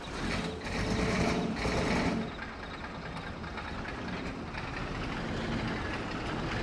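A truck engine in Farming Simulator 22 drones steadily and loudly with a rough mechanical rumble, a slightly heavier surge in the first two seconds before settling into an even running hum, no voices.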